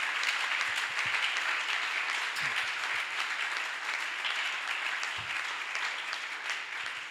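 A church congregation breaks into sustained applause for the king during a worship service, a dense steady clapping that fills the space evenly throughout with no voices standing out.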